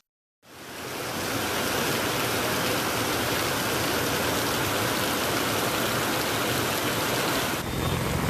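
Steady rain falls on city streets around an old bus station in Vellore, Tamil Nadu, where runoff floods the roads; a dense, even hiss runs without a break for the whole stretch, with no voices.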